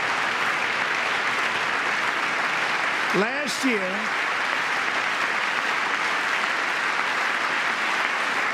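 Applause from lawmakers fills the chamber of Congress during a presidential address, a dense, steady roar of clapping throughout, with a brief spoken phrase cutting in near the middle.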